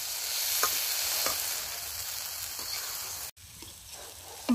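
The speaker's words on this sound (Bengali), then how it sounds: "তো এখন ভালোভাবে ভেজে নেওয়া হবে।" Banana stem curry fries in a pan, a soft steady sizzle with a few stirring scrapes at intervals, fairly quiet and close, broken by a brief cut near the end.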